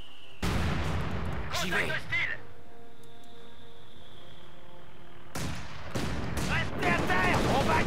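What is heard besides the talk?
gunfire and artillery in Company of Heroes 2 video game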